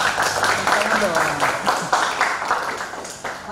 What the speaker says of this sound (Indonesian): Oke, tepuk tangan dong. Tepuk tangan dong.